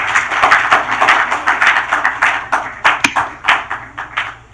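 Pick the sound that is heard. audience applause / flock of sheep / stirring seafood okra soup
audience applause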